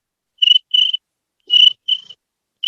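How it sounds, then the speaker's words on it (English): Crickets chirping in short bright trills, five bursts in an uneven rhythm with brief silences between, loud and close with nothing else audible. "A lot of cricket sounds"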